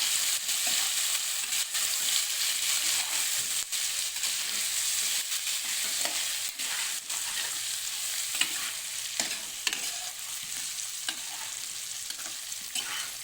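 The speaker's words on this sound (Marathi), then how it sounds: "हे सगळं आपल्याला मिक्स करून घ्यायचं" Mixed vegetables fry with turmeric and plenty of masala in a pan for dhokla, giving a constant close sizzle broken by repeated spatula scrapes and stirring knocks throughout.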